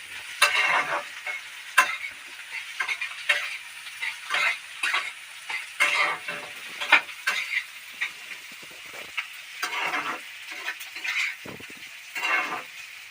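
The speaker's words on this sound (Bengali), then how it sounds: "এখানে ফুলকপি আলু দিয়ে ভাজা করছি" Cauliflower and potato frying in a small home kitchen pan, with repeated scraping stir strokes over a steady sizzle in an irregular rhythm, close and moderately loud, no talking.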